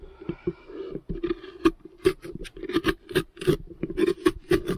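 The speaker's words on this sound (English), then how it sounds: "you can gouge either this way or from from side to side" A carving tool gouges into a Halloween pumpkin, making repeated short, scratchy scraping strokes close up in an uneven rhythm, with no voices.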